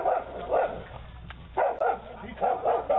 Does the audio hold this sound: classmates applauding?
no